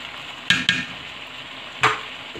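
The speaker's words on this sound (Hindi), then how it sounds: "अब इसको बस हिला के और फिर इसको हम ढक के पकने के लिए रख देंगे।" Potato and cauliflower being stirred in a pan for aloo gobi, with three brief scraping strokes over a faint steady background, no talking.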